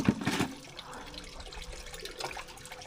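Water runs steadily from a household tap, a soft continuous splashing hiss, quiet and close, with a brief louder clatter at the start and no talking.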